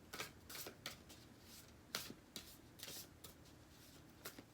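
Tarot cards being shuffled and drawn, a series of quiet crisp riffling bursts close up, about a dozen in an uneven rhythm against near silence.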